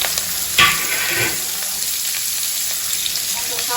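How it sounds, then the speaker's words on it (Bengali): Onion hitting hot oil for a rohu fish curry, with mustard paste ready nearby: a sharp burst of sizzle with a clatter that settles into a steady, close frying hiss. "প্রথমে তেলের মধ্যে আমি পেঁয়াজটা দিয়ে দেবো"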